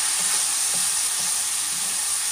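Meat sizzles and fries steadily in its own rendered fat in a pan as sauteed cucumber is started, a dense, even crackle with faint stirring bumps underneath and no voices.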